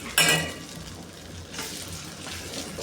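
Idli tossed with idli podi in a hot pan: a sharp sizzling burst as pieces drop in, then a softer frying hiss with light stirring scrapes, close and moderate, with no talking.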